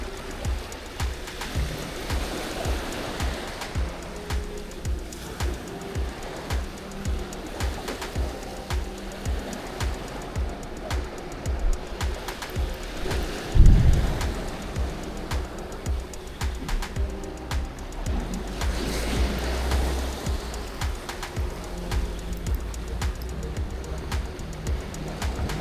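Sea waves rolling onto a Dorset shore make a steady, close wash of surf with repeated swells, overlaid by wind gusts, a brief thump and faint bird calls during a shoreline lure-fishing session for bass.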